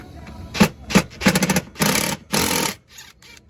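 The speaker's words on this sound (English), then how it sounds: "taking off the bolts here" Bolts are backed off on the Goshen lift system of a 2005 Dutchmen pop-up camper, probably with a power tool, in several short loud buzzing bursts separated by pauses. Speech may be faintly present.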